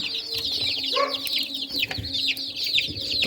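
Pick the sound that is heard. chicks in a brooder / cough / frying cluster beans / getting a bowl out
chicks in a brooder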